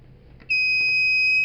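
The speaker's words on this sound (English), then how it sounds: "automatically the buzzer will start beeping" A low-battery buzzer on a solar energy-sharing system sounds suddenly and holds one steady, piercing electronic tone, loud and close, after a quiet moment with faint background hum.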